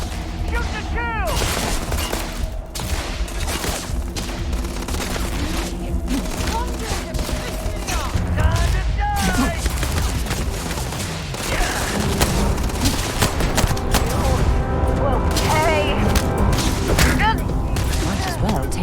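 Gunfire in the video game Starfield comes in rapid, dense volleys over a game soundtrack. A player talks over the shooting, which stays loud and continuous from start to finish.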